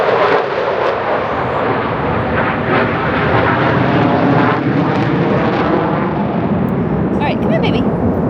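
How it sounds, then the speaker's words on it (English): A Blue Angels jet roars overhead in a city, a loud, broad continuous rush of engine noise that sustains steadily for several seconds before starting to fade. "it was like a single blue angel that just flew by"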